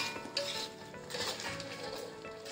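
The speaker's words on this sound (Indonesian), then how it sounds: "ini bumbunya kita tumis" Spice paste is stir-fried in a pan, with close scraping and clinking of a utensil against the pan over a faint sizzle, no talk.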